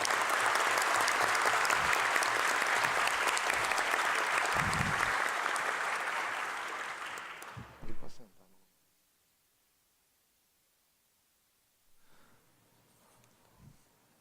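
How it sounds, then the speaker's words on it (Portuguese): Loud sustained applause from a lecture audience in a legislative assembly hall, steady for about eight seconds before dying away, followed by near silence with a few faint bumps. "Salve de palmas"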